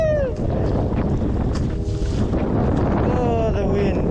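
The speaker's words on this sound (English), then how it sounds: "There are white caps all around and the wind is really strong." Strong wind gusting across the sea in Changi Bay on a small fishing boat, roaring as heavy microphone wind noise with choppy water beneath, nearly constant and loud, while someone speaks briefly through it.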